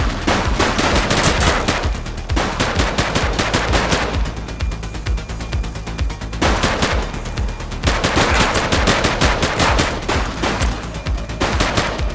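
Police shootout gunfire in The Precinct video game: loud, rapid automatic bursts of shots in long volleys, separated by brief lulls, with no talk over them.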